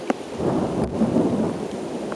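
Thunder rolls low and dull during a night thunderstorm, a broad rumble under steady rain hissing on surfaces, distant rather than a sharp crack.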